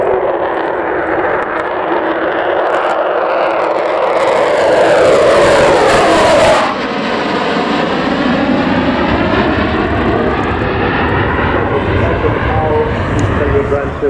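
Loud Avro Vulcan XH558 jet bomber engines howl with a rising, wavering whine that sweeps in pitch over a heavy roar, sustained throughout, at the Yorkshire Air Show.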